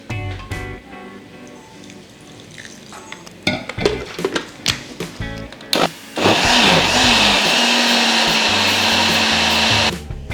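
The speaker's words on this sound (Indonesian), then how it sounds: "kita masukin kelapanya ke dalam blender." Grated coconut and water go into a blender for coconut milk, with clunks and knocks as it is loaded, then the motor starts and roars steadily, loud and close, for several seconds.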